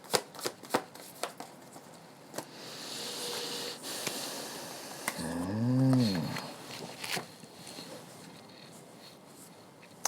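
A tarot deck is shuffled on a tabletop, giving soft papery riffles and taps. A brief low, moaning tone rises and falls midway through.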